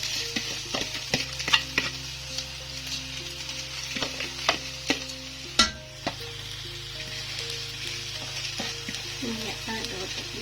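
Rice tipped into a pan of frying vegetables and stirred, a constant sizzle with sharp scraping and clattering strokes of the spoon, close by, with no talking.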